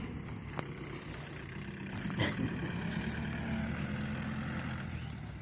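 A Kubota L4708SP tractor with a water-cooled, direct-injection four-cylinder engine runs with a low, steady rumble, faint and even, swelling slightly partway through.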